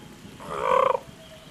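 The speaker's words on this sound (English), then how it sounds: "You hear the sounds of birds in the distance." A single warbling, gobble-like bird call rises mid-clip and fades. It is part of an ambient nighttime forest soundscape with moonlit tree canopies, heard over a low hiss with no talking.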